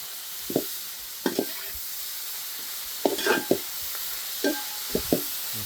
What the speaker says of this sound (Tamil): எல்லாம் தக்காளி வெங்காயம் எல்லாம் நல்லா வதங்கி கொடுக்கும்